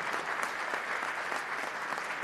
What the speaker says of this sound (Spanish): El aplauso para su director, Heriberto Valdivieso